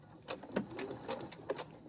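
A Brother SE600 sewing machine back stitching, heard as short quiet mechanical bursts and ticks in an uneven rhythm, fairly faint and close.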